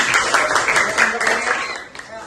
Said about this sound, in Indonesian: kasih tepuk tangan buat kelompoknya Baim.